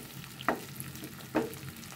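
Hilsa fish frying in oil with onion and green chilli, a continuous low sizzle broken by two brief spatula scrapes about a second apart, near and fairly quiet, no talking.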